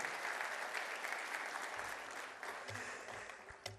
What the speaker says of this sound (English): Let's give a big round of applause once again to him.